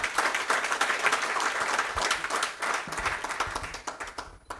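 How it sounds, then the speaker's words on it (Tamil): Sustained applause from an audience at a Rotary chapter installation ceremony in Vellore, steady dense clapping filling the room for several seconds before thinning out at the end. "ஃபஸ்ட்டு நம்ம எல்லாருக்குமே ஒரு கைத்தட்டல் கொடுத்துருவோமா பலமாக"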